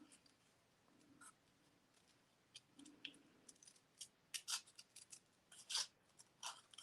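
Scissors snip through paper during a stamping and papercraft session, a run of quiet, close crisp cuts with short bursts and pauses, and some soft rustling of the paper being turned. No one speaks.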